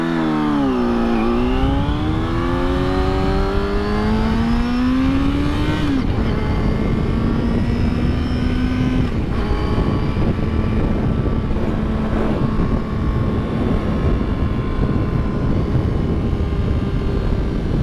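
A Yamaha R6 motorcycle engine roars while riding, loud and close, its whining pitch climbing and dropping through gear changes before holding a sustained high drone over wind rush.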